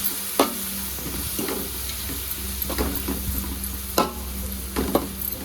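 Ghee rice is stirred in a hot pan with a spoon, giving a soft sizzle under a series of sharp scraping strokes spaced irregularly, close and moderately loud.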